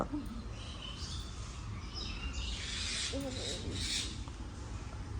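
Birds chirp and call intermittently in the background, a few short bright calls over a soft ambient hum, faint and somewhat distant.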